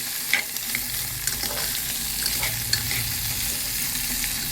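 Chickpea and potato curry sizzles steadily in a pan while a spoon or spatula stirs it, with soft scraping and clinking accents scattered over the continuous frying hiss.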